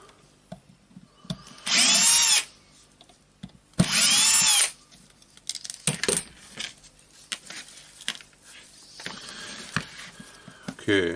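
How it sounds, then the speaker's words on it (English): A cordless screwdriver whirs in two short bursts, about two seconds each, backing screws out of a Berner orbital sander being taken apart, between clinks of screws and small metal parts being handled. "Getting the screws out, taking the second wires up."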